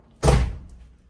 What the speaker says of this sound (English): I'm in my garage and that door just slammed because it's windy out here in Florida